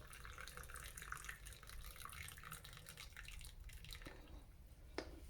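Brewed Klingon raktajino coffee pours out through a strainer, a steady trickling, dripping stream of liquid heard up close for several seconds, ending with a brief clink near the finish.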